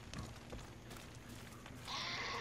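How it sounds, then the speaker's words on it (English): A goat bleats in the video game Far Cry 5, heard at a farm over steady game ambience, with a brighter burst of noise near the end. "That's a goat."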